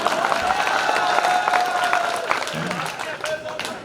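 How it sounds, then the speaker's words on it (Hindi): An audience at a Hindi poetry gathering (kavi sammelan) applauds, a sustained burst of many hands clapping that slowly fades over a few seconds while a voice speaks over it. "इसलिए एक बार आप ताली बजाइए।"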